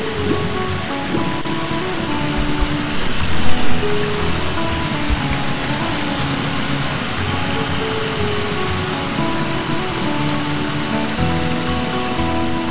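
Continuous rushing water of a waterfall in the video game Ocarina of Time Master Quest, steady and full-bodied throughout with a slight swell early on, no voices present.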